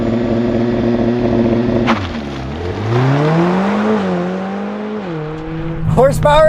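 A 2020 Mercedes-AMG CLA 45 4MATIC Plus with a turbocharged 2-liter four-cylinder holds a steady high idle for the race start, then launches loudly, its engine note dipping and climbing through the revs before a shift and a fresh surge.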